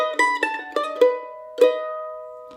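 Mandolin picks out a short bluesy turnaround lick from a lesson on the tune Angel Band: a handful of bright plucked notes and double stops, each attack ringing and decaying, played close and clear with no talking.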